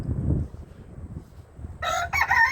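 A rooster crows twice near the end, loud and close, after a quieter stretch of soft clucking and rustling from chickens in a backyard shelter built from upcycled materials.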